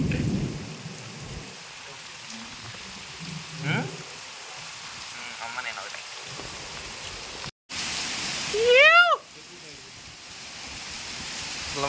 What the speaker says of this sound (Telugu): మామూలు వర్షం లేదయ్యా